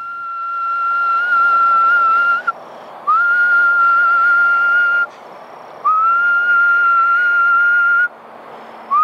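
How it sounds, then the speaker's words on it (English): Repeated human whistling aimed at a Florida black bear outdoors: four long, loud sustained tones, each starting with a short upward slide and held for about two seconds, separated by brief pauses. No talk. "I whistle at him to spook him off"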